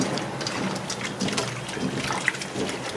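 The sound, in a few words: washing fish steaks with water and vinegar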